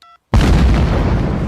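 A cartoon explosion in Family Guy destroys a bridge at rush hour: after a brief beep and a moment of silence, a sudden loud blast hits and then rumbles on, slowly fading.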